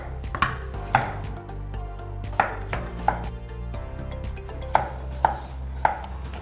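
Knife chopping taro and vegetables on a cutting board, sharp single thuds spaced irregularly about half a second to a second apart, close and clear over a low room background.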